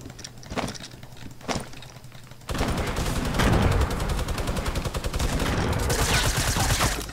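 Sustained rapid minigun fire from the Fortnite video game, a dense continuous burst starting after a few seconds of scattered shots and thumps, loud and steady to the end with no talking.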